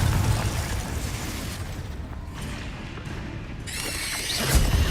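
Confringo blasting spell from a Harry Potter video game, a loud rumbling burst of explosive noise with a crackling tail, sustained rather than a single sharp bang, no voices over it.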